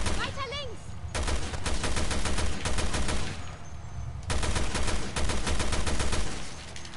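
Rapid gunfire in Resident Evil Revelations 2 cracks out in loud, dense bursts, with short pauses between volleys, under occasional faint voices.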